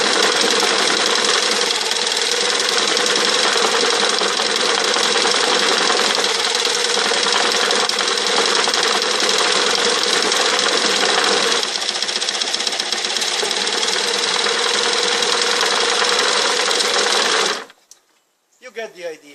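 A homemade jigsaw-powered soil sifter shakes dirt, weeds and rocks through a screen, making a loud, steady buzzing rattle that runs continuously for most of the time before cutting off abruptly near the end.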